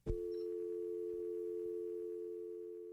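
A telephone gives a steady, continuous dial tone after a call is hung up. It starts with a short click, then holds at an even, moderate level with no breaks.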